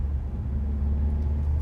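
Vauxhall VX220 sports car engine droning steadily from inside the car at speed, a continuous low rumble with no speech.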